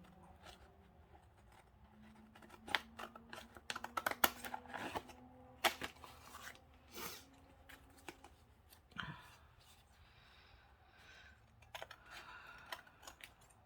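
Scissors snipping through a paper collage masterboard to make junk journal cards, with quiet, intermittent cuts and small paper rustles in a hushed room and no talking.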